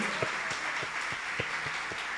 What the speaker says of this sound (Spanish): ¿Qué tal si le damos un fuerte aplauso al Señor?